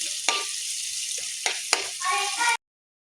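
Food sautéing in a pan, lightly cooked without browning: loud steady close sizzle with a few sharp scrapes and clinks of stirring, then abrupt silence at the end.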